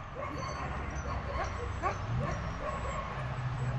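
Alaskan sled dogs let out high whimpers, yips and short barks near the microphone after a run, in quick uneven bursts, while a person speaks softly among them.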